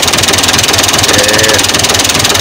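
A 2020 HH Dabung tractor engine runs steadily nearby, a rhythmic knocking diesel chug that stays loud and even with no talk over it.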